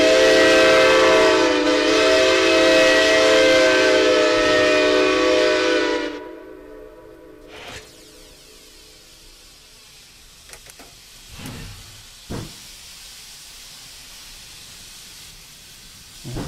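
A steam locomotive in the Century of Steam simulator begins to move off: a loud, steady hiss fills the first six seconds, then cuts away to quieter mechanical clanks and a few short bursts.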